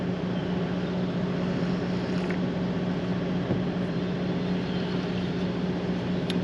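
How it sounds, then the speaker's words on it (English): A generator runs outdoors at an amateur radio Field Day 2024 site, a steady droning hum with a constant low tone that holds unchanged throughout, fairly close and without any talking. "Sorry about the noise from the generator"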